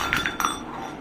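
A glass clinks three times in quick succession, with short, bright, fairly close taps, as a child drinks water over a low background murmur.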